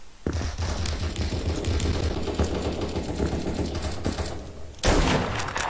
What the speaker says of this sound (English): I just shot there for fun.